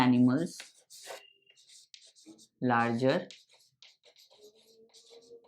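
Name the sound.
writing on a board during a lecture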